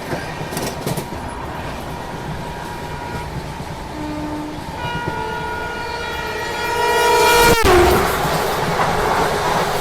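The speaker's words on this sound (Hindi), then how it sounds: "ये सामने से आ रही है लीलन एक्सप्रेस।" The Leelan Express, an Indian passenger train, approaches on the opposite track and sounds a long, loud horn. Its rumble and rush swell as it passes close by.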